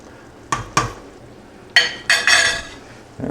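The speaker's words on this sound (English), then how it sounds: "what I want to do real quick is stir it once" Spoon scraping and clanking against a pot of boiling pork stew, a few sharp knocks followed by longer stirring swishes over a low bubbling background.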